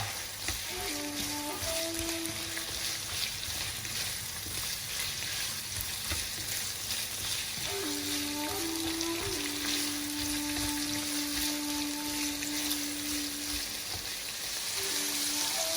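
Yaki udon ingredients frying in a pan give a continuous loud sizzle with occasional stirring scrapes, sustained throughout with a faint tonal hum in the background and no talking.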